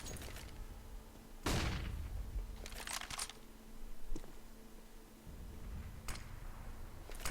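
An AWP sniper rifle shot in Counter-Strike on the Train map, a sharp loud crack near the start with a decaying tail, followed by a few fainter clicks and distant shots in the game.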